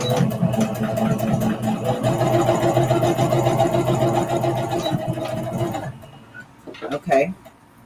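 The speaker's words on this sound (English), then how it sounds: "And now I'm going to sew these two together." A home sewing machine runs steadily while joining fabric pieces, a continuous close mechanical hum and rattle lasting several seconds, then it stops with a few light clicks and handling sounds.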